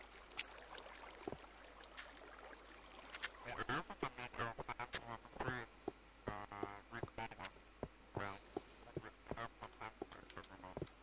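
Clucking fowl calls from the Minecraft video game come in short bursts amid sharp clicks and other game sounds, with occasional speech in the background.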